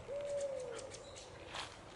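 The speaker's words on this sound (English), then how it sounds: "It was an owl." An owl hoots outdoors on a birdwatching walk, giving a single faint, low hoot about a second long against quiet background noise.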